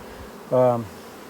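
A single honey bee buzzes close by for a moment at an opened hive during swarm splitting, a short, loud, steady hum that rises and fades away within half a second against quiet background.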